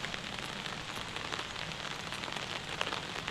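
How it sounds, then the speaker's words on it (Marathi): Heavy monsoon rain pours onto Konkan farm fields in a dense, steady hiss that runs unbroken throughout, with no voices. "आजच पाऊस चालू झाला आणि मरणाचं पडता."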